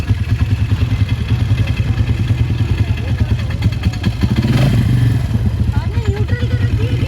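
A single-seat dune buggy engine runs in the desert near Dubai, a loud, rough, throbbing drone with rattling clatter that swells briefly as it revs, steady throughout the ride.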